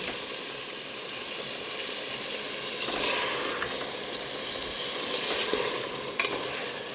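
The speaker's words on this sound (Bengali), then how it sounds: "ভালো করে কষিয়ে নিচ্ছি। এখানে দিয়েছি পেঁপে" Papaya sizzles and fries in a pan as it is stirred and sautéed, a steady close hiss with occasional scraping clicks and no talking.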